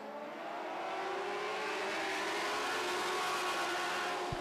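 Lightning sprint race cars roar off at the start of a heat, several engines climbing in pitch together and staying loud and close, with no talk over them.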